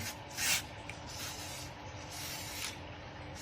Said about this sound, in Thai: ผมใช้อันนี้ครับ สเปรย์ซิลิโคนเนี่ย ฉีดเคลือบไว้นะครับ